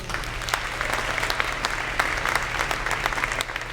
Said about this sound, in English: And can we give all of our amazing student leaders a round of applause,